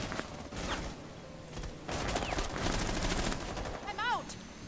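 Gunfire during a competitive Rainbow Six Siege match, rapid automatic bursts and single shots clustered together, dense and loud, with game effects and a caster's voice under the shooting.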